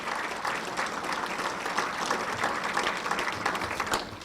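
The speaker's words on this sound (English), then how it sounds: "big round of applause." An audience at a Stockman of the Year event gives a big round of applause, a steady, moderately loud wash of many clapping hands sustained throughout.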